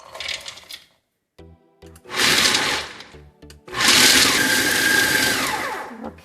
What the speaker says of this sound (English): we'll put all these nuts in a food processor